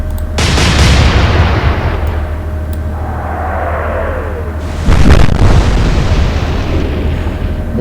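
Naval guns firing in the Atlantic Fleet video game, two loud booming blasts a few seconds apart, each with a long rumbling tail.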